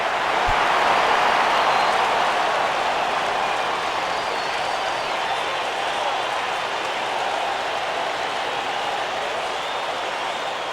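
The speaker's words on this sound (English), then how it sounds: "Oh, and the crowd will boo here." A large baseball stadium crowd in MLB 11 The Show roars in a sustained, loud wash of disapproving noise that fades slightly over about ten seconds, with no clear talk over it.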